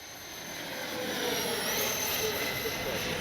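A Freewing 80mm A-10 Thunderbolt RC jet with its gear down passes by, a steady loud electric ducted-fan whine that swells and holds, with a faint rising pitch sweep near the middle.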